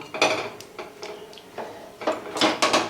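A lid clatters onto a pot of country chicken set to boil in water, several close metallic clinks and knocks spread over a few seconds with no talking.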